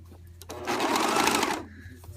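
A serger overlock machine sews a blind hem on knit fabric, a single close burst of fast whirring stitching that starts, runs steadily for about a second, then stops.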